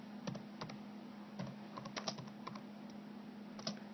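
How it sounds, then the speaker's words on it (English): Someone types one-handed on a computer keyboard, producing irregular clusters of soft, close clicks with uneven pauses between keystrokes over a steady low hum; no one speaks. "my spelling is terrible when I'm typing one-handed"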